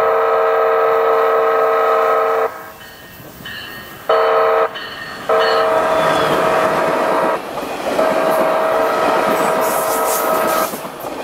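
A railroad crossing gate's loud, sustained electronic warning siren blares in San Diego, cutting out briefly a few times before resuming, over a low rumbling background.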